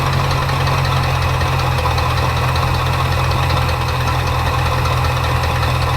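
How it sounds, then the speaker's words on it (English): An engine idles high while in gear after a carburetor rebuild, giving a steady, unbroken drone with a constant rumbling vibration throughout and no voices. "that's a really high idle for being in gear"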